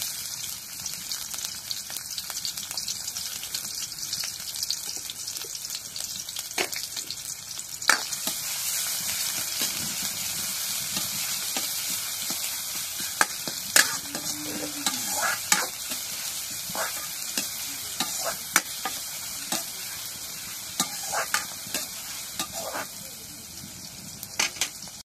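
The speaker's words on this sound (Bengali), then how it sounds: "এখন তেল দিয়ে দিই। এখন পেঁয়াজ কাটা দিয়ে দিই।" Chopped onions fry in hot oil in a pan, a steady bright sizzle broken by occasional scraping clicks as they are stirred, close and continuous.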